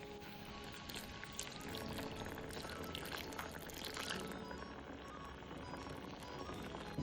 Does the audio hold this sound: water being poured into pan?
yes